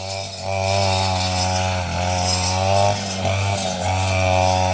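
A brush cutter engine runs steadily at high revs close by, its blade chewing into grass and digging into the soil around a fish pond, the droning whine wavering slightly without a break.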